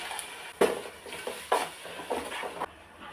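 Ground tomato puree pours into a hot pan of spiced chicken biryani base, giving a few sharp sizzling bursts and stirring scrapes over a steady low frying hiss, close and moderately loud.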